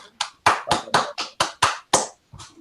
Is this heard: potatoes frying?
no